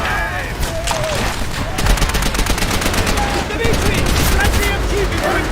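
MG42 machine gun fire in a World War II video game, a dense continuous rattle of rapid shots mixed with other battle noise, loud and close throughout.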